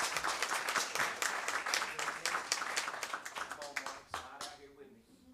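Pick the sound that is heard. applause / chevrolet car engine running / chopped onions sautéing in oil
applause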